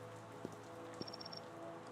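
Rain falls in an RPG Maker video game, a faint, steady wash of soft patter with a few isolated drop ticks, quiet and even throughout.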